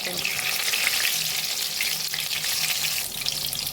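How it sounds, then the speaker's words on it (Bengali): Mushroom pakora batter fritters frying in hot oil over medium heat, giving a dense, steady sizzle and crackle that stays loud and close for the whole stretch with no voices. "মিডিয়ামে রেখে আস্তে আস্তে কিন্তু ভাজছি।"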